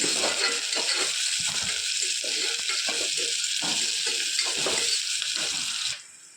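Continuous hissing sizzle of onions frying in a pan for tomato rice, with scraping stirring sounds underneath; the sizzle drops away abruptly near the end.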